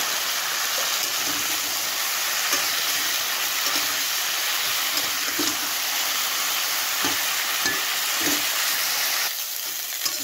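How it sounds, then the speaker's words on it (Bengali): Cauliflower florets frying in hot oil in a pan, a steady close broadband sizzle running throughout with a few soft knocks of stirring and no speech. "তেলটা গরম হয়ে গেছে, এবার আমি ফুলকপিগুলো দিয়ে দেবো। ফুলকপিগুলো আমি ভেজে নেব।"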